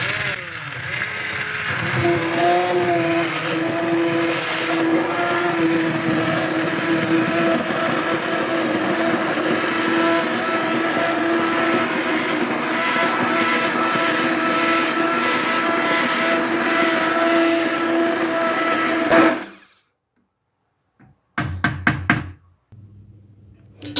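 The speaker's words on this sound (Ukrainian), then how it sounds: "Переб'ю це все блендером." A blender purees tomatoes loudly and continuously for about twenty seconds with a grinding whir, then stops, followed by a few brief bursts.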